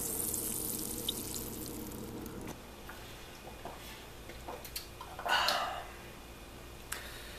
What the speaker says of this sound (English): Listen to those bubbles.